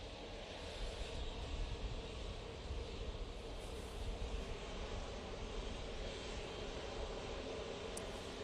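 An Etihad airliner approaches Manchester Airport, a continuous distant jet rumble and hiss rising and falling gently in level, with no voices.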